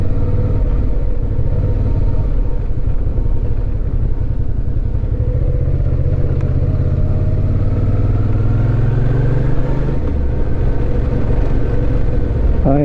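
A motorcycle rides along a gravel road mixed with washboard, its engine droning steadily and loudly with continuous rumbling and clattering from the loose surface underneath.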